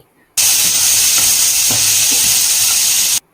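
Onions and sliced tomatoes fry in a hot pan as they are stirred, giving a loud, dense sizzle and hiss with a few scraping strokes. The sound starts abruptly, stops abruptly and runs without any voices.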